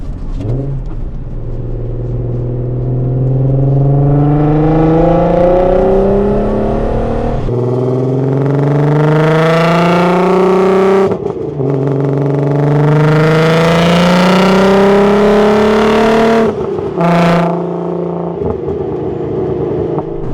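A VW MK6 GTI with an all-wheel-drive 3.6L VR6 and big cams accelerating hard up an on-ramp, its engine note climbing steadily through the gears with loud rising drone and brief shift breaks.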